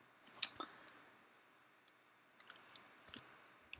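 Light, scattered clicks of a computer keyboard come in short irregular bursts, faint and close in an otherwise quiet room, with no talking.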